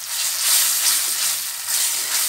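Spices fry and get stirred in oil in a pan for a potato curry made with new winter potatoes and onion greens, giving a loud, steady broadband sizzle with soft scraping swells and no talk.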